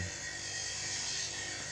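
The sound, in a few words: sanding a wooden tobacco pipe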